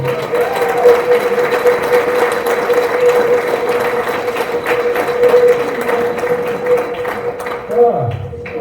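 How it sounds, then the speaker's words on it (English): An audience applauds at a 30th anniversary event in Ottawa, a steady wash of clapping that continues throughout, mixed with a faint sustained tone and some voices. "A round of applause for all memories, good, bad, and weird, of all of our locations."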